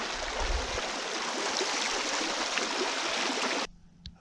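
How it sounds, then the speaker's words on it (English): A stream flows through a quiet winter hardwood forest, a steady close rushing wash of water that cuts off abruptly near the end, leaving near silence. "The water is a nice reprieve from the silence."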